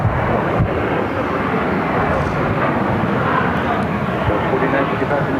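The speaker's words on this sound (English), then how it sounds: "That was American Airlines flight 1691 to Dallas on an Airbus A321" An American Airlines Airbus A321 takes off from Phoenix airport, its jet engines producing a loud, steady, broadband roar that fills the whole stretch without letup.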